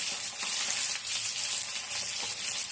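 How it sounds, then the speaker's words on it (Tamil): Chicken 65 frying in a pan for chicken biryani makes a loud, continuous close-up sizzle with light crackles throughout. "இதை பாருங்க, கொஞ்சம் வறுத்துட்டேன்."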